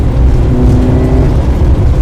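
Mitsubishi Evo rally car engine pulling steadily under throttle up a hill, a loud, continuous close-up drone with a faint rising tone and no talk.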